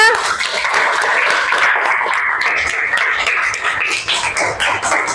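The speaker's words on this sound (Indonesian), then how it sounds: "tepuk tangan buat kita semua" A classroom of school students claps together after a breathing exercise, a lively, fairly close burst of many hands that continues steadily with a few sharper taps and faint voices.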